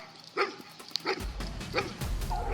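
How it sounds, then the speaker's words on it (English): Hunting dogs bark during a Texas wild boar hunt, a few sharp barks at moderate distance over low outdoor rumble. "the sound of barking broke through the air"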